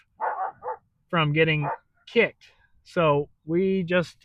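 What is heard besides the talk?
Australian Shepherd dog barking in the background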